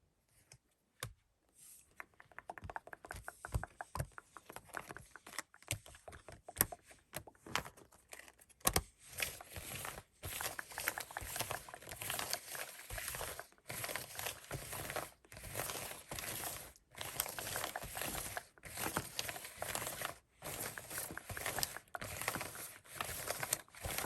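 Rapid riffling and crisp flicking of playing cards being shuffled, repeated in bursts with brief pauses, close and fairly loud.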